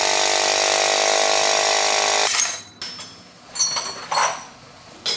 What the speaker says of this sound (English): Press off the old differential side bearings using a bearing splitter and a press